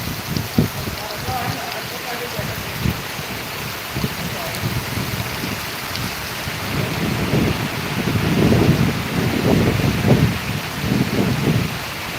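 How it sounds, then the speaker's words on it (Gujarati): Steady heavy rain, falling nonstop for most of an hour, hisses across the whole stretch, with low rumbling gusts and bursts of voices murmuring underneath, growing denser toward the end. "વરસાદ લગભગ અડધીથી પોણી કલાકથી એક ધારો ચાલુ છે"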